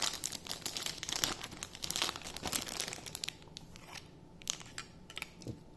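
Close, busy crinkling of a plastic bag as the remote control for a Winix 5500-2 air purifier is pulled out, dense at first, then thinning to scattered rustles and small clicks.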